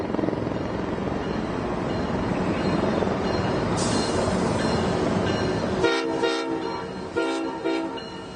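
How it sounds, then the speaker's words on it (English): A freight train hauling military tanks into Washington, D.C. rumbles past loud and close with steady heavy rolling noise, then a horn blast sounds over the clatter near the end. "Look at all of these tanks being driven into Washington, D.C. on a train recently."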